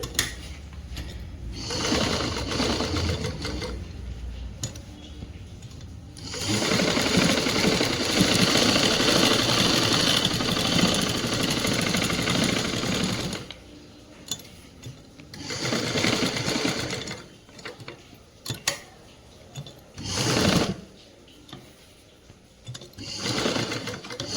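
A sewing machine stitches a government school uniform blouse in bursts, with a long steady whirring run and several shorter starts and stops, close and loud with brief pauses between runs.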